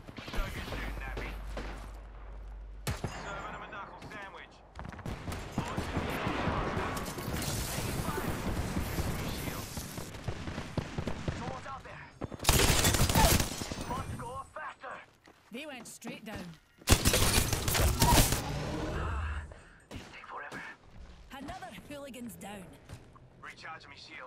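Apex Legends gunfire, with bursts of rapid shots and sharp loud volleys over dense game sound effects and a person talking.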